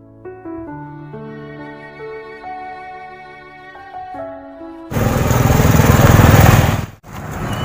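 Tuneful tones give way to a loud, rough motorcycle engine revving nearby, dropping out briefly before roaring again as the motorcycle stalls.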